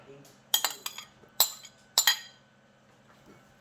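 Fruit chaat being stirred in a bowl, with a few sharp clinks of a utensil against the dish in quick clusters, close but soft, a faint voice in the background.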